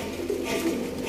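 Sialkoti black-faced pigeons cooing softly, with a couple of brief low coos over a faint steady background and no voices.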